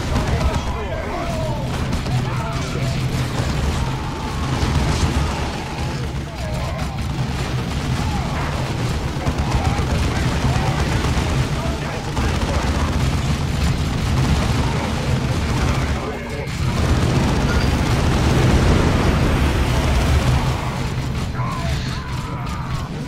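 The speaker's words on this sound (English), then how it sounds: "Throwing frags on those machine gunners." Frag grenade blasts and machine gun fire in the Dawn of War strategy game with the Ultimate Exterminatus mod, a dense continuous barrage of gunfire and explosions under a voice.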